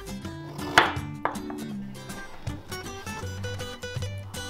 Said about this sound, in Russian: Сначала крупно нарезаем морковь.